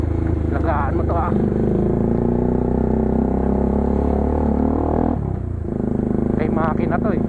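A motorcycle engine runs close and loud with a steady rumble throughout, while people talk over it.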